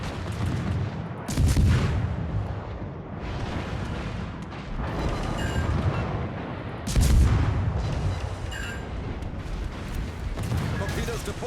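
Naval guns firing aboard the destroyer Tachibana in World of Warships, with two heavy booming salvos standing out over continuous battle rumble while someone talks throughout.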